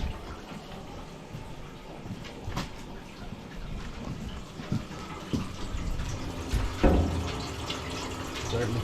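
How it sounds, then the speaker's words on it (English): Water runs through an opened valve into a maple syrup evaporator pan, a faint steady trickle and splash that grows a little louder toward the end, with low sounds of handling nearby. "I'm going to fill up the pan here."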